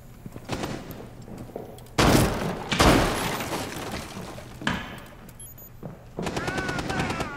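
Gunfire from the Rainbow Six Siege video game on the Burnt Horizon map, with loud bursts of automatic shots and a glass-shattering burst, separated by quieter game ambience and faint background talk.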